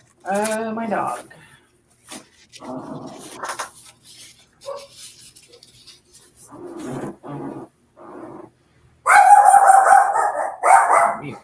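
A pet dog barks in several loud, close bursts, separated by pauses and broken up by someone talking in a room.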